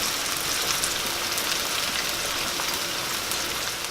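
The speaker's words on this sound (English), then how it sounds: "So we just want to let our onions cook for a few minutes." Onions frying in a pan for a shrimp and veggie stir fry give off a steady, dense sizzle close by, constant and even throughout, with no talking.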